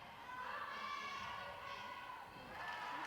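Crowd noise at a netball match between New Zealand and South Africa, a steady broad roar of cheering spectators throughout, fairly loud and continuous with no clear talk.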